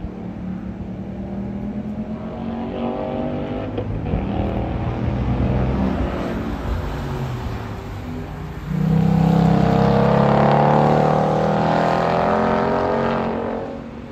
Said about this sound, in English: Here goes that yellow car over there racing.